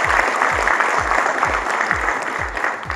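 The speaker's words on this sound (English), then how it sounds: "I want to hear those applause coming in again" An audience at a Bengaluru tech event claps continuously while a deep thumping beat pulses underneath roughly twice a second, steady and fairly loud throughout.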